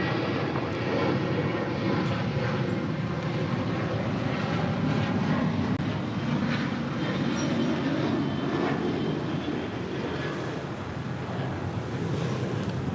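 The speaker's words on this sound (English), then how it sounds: "1446 departing to Los Cabos on the 737-900 ER" An Alaska Airlines Boeing 737-900ER departing Los Angeles toward Los Cabos produces a steady, moderately distant rumbling roar that holds evenly throughout, broad and airy like surf.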